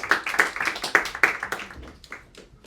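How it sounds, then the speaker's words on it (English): Comedy club crowd clapping at a live comedy night, a quick burst of sharp, scattered hand claps that peaks early and then thins out over a few seconds. "Let's get another round of applause for the sweater vest guy."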